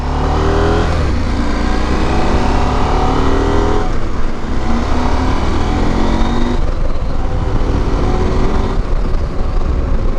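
A KTM 890 Adventure R motorcycle ridden on a test loop, its engine loud and close throughout, with rising and falling revs as it accelerates and shifts through gears.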